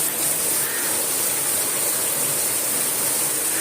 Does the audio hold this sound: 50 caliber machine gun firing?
no